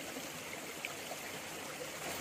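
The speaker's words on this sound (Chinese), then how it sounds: "让清澈的水流从脚上欢快地流过" A clear mountain stream flows over feet and stones, a steady soft broadband rush of water with faint trickles, continuous and moderately quiet outdoors.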